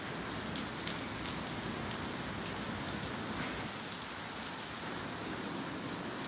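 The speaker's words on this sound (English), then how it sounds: "I'm getting an inch of rain" Steady rain falls in a dense, even hiss, soft and constant throughout, with no voices or other sounds.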